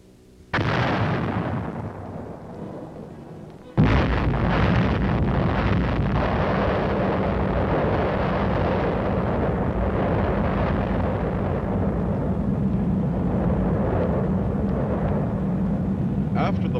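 Atomic blast on a battlefield: a sudden huge explosion bursts in, followed by a long sustained roaring rumble, after an earlier loud onset, with wind-like noise throughout.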